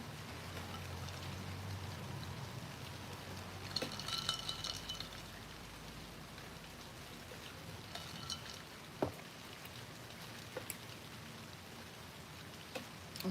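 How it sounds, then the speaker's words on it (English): Steady rain falls outside, a soft continuous patter with occasional louder drops and faint clinks, heard indoors at a moderate, even level with no talking. "It started raining."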